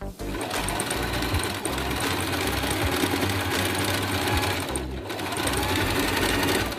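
A sewing machine runs continuously and close up, stitching trims along the edges of a patchwork top with a loud, steady mechanical whir. There is a brief pause near the start and another near the end.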